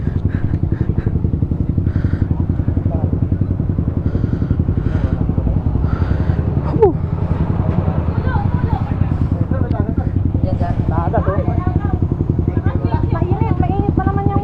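A motorcycle engine idles steadily and loudly with a low, even throb, while people talk over it.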